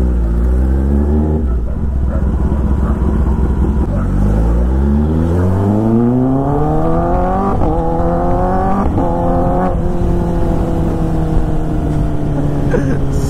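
A Kawasaki ZX10R sportbike accelerates hard and close, its engine pitch sweeping upward through several quick-shifter gear changes, each marked by a brief cut and crackle before climbing again, with no talking.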